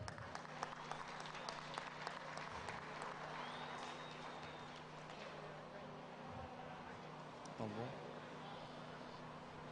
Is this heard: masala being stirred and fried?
no